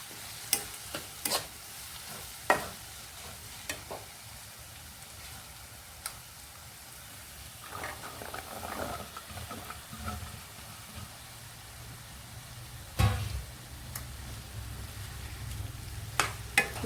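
Bottle gourd stir-fried in a pan for a Telugu milk curry gives a soft continuous sizzle, broken by sharp spoon clinks and scrapes against the pan, with a louder clatter near the end.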